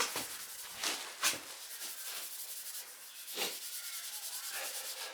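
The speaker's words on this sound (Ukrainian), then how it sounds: "Воно при високих оборотах воно видно було, чи воно стирає, чи шліфує, чи не шліфує." A machine sands titanium in preparation for polishing, producing a continuous rasping hiss with periodic scraping swells and rhythmic pulses, close and fairly quiet.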